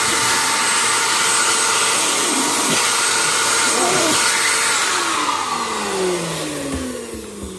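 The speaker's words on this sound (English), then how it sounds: "Hold the vacuum." A micro shop vac runs loudly up close, its steady whine rising and shifting in pitch as the stretched hose draws air, then easing slightly toward the end.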